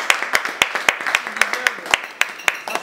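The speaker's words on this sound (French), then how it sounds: "On peut l'applaudir." Scattered hand claps from a small audience at a graduation, about a dozen sharp, fairly evenly spaced claps across a few seconds, close and moderately loud.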